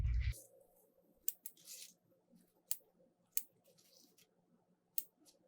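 Scissors snip the ribbon tails of a Christmas elf wreath bow, giving several quiet, sharp cuts spaced unevenly over a soft background of handling rustle.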